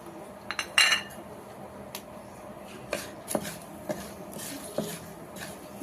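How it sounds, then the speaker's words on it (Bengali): Whole spices go into a pot after onions have been fried, for pulao: light clinks and taps of a spoon against metal, scattered and close, with no strong sizzle. "পেঁয়াজ ভেজে তুলে নিয়েছি, এবার এই মশলাগুলো দিয়ে দিচ্ছি।"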